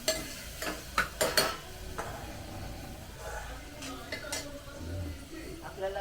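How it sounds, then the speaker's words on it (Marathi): Khichdi rice being sautéed in oil in a pan, with a spoon stirring and scraping in a few sharp clinks near the start, then softer continuous stirring with faint frying and a voice in the background. "असं चांगलं परतून घ्यायचं तेलावर."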